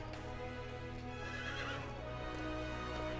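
Horse neighing in the LEGO Worlds video game, a loud, continuous whinny that lasts over three seconds with steady clip-clop hooves underneath and no talking.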